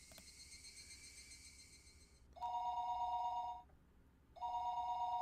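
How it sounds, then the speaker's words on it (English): A telephone rings in the Higurashi video game as a bright electronic trill in two loud bursts separated by a short pause, following a fainter high tone, with no voices. "The phone suddenly rang."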